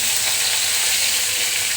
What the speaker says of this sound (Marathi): आता ही फोडणी छान अशी मिक्स करून घेऊया